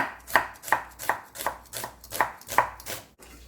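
Knife chopping a large onion half on a cutting board, nine or ten crisp, evenly spaced chops close by, with no talking.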